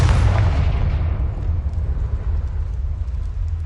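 A Confringo explosive spell goes off in Hogwarts Legacy as a loud, deep boom that rolls on as a dense rumbling roar for several seconds.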